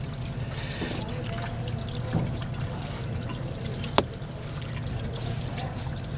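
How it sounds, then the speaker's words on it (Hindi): Water pours and trickles from a heater pipe on a Suzuki Mehran VXR car, a steady low splashing flow with a faint drip-like tick partway through, close by and with no talk. "ये देखें आप कि यहाँ से अब पानी निकलना शुरू हो गया यहाँ पे।"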